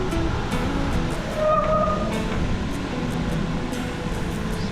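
Water rushes steadily over a river spillway on the Marikina River, a broad, continuous roar heard from nearby, with a faint voice briefly audible.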